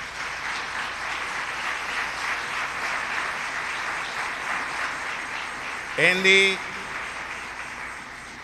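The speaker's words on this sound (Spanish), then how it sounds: "Vamos a darle un fuerte aplauso a él." A church congregation applauds Andy, a fellow member, with a steady wash of clapping, and a voice briefly calls out over it near the end.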